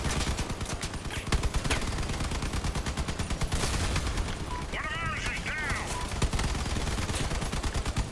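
Rapid, sustained automatic gunfire from a video game, dense and loud throughout, with a brief whining mechanical tone partway through and a voice occasionally underneath.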